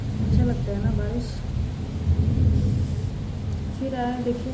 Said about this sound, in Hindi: अच्छा लगता है ना बारिश।